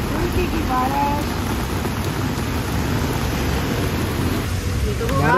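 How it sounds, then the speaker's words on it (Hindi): Heavy rain pours down in Antalya, Turkey, in a loud, dense, continuous wash, with a voice faintly audible underneath at moments. "अंतालिया में बारिश कैसे एकदम से तेज वाली बारिश हो गई है।"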